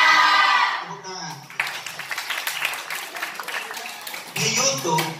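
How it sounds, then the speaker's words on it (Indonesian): Children at a Ramadan youth gathering clap their hands together, a dense burst of rapid clapping that rises after a voice and fades as talk returns near the end. "Tepuk tangan."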